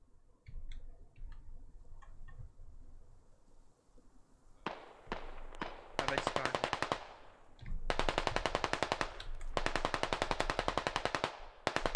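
Rapid automatic gunfire from a squad-based military shooter game rattles out in long, loud bursts after a few scattered distant shots, with sharp repeated reports packed tightly together and no talking.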